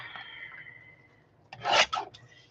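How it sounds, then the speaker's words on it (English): Paper being trimmed for a craft project: a brief rasping cut rises after a quiet stretch, scraping for about half a second before stopping, close and moderately loud. "I'm going to trim a little bit off the top."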